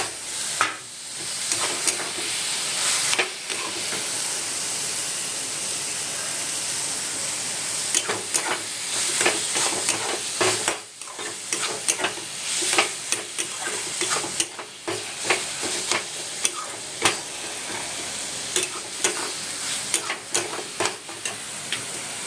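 Minced meat fries in a pan with chilli powder, sizzling and hissing loudly and steadily throughout, with frequent scraping and stirring knocks close by.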